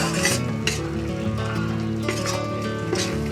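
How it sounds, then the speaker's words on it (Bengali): A spoon scrapes and stirs a taro leaf mixture in a pan in a steady rhythm, with a continuous low sizzle underneath and occasional metallic clinks against the pan. "এবার এটা আস্তে আস্তে নাড়তে হবে, এইভাবেই হতে থাকবে।"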